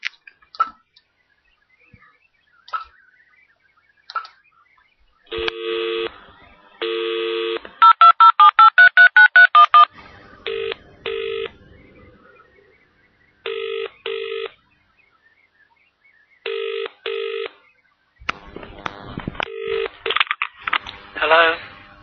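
A landline phone call is placed: a rapid run of touch-tone dialing beeps, followed by repeated paired ringback tones with pauses between them, then clicks and a voice answering at the end, loud and close.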